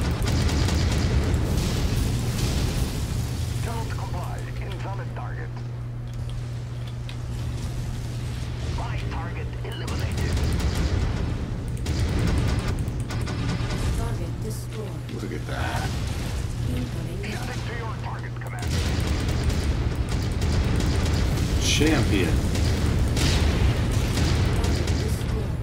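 Late-game mech weaponry fires in MechWarrior 5 with heavy booming volleys and rapid bursts, sustained and loud, while a voice talks over the barrage.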